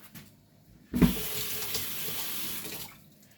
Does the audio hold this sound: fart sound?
no